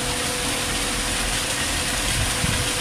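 A 750W water circulation pump for a snail pond, run from solar panels, hums steadily at close range, a dense constant whir with faint mechanical rattle and no pauses.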